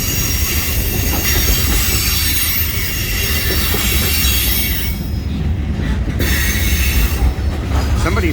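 A long Norfolk Southern freight train slows on a grade, its wheels squealing loudly and steadily over a heavy rumble of rolling cars, close by and with no talk.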